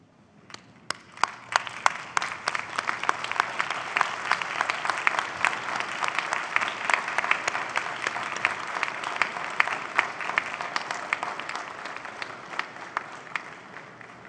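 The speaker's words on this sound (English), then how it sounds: "give them a warm round of applause for supporting your journey" Sustained applause from a large graduation convocation audience, a dense wash of many hands clapping steadily at close to moderate distance with no pause, lasting the full stretch.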